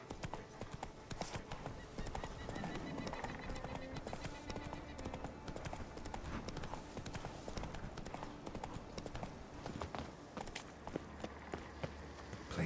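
A horse gallops in The Witcher 3: Blood and Wine, with rapid rhythmic hoofbeat clip-clops running throughout and occasional game voice and ambience faintly beneath.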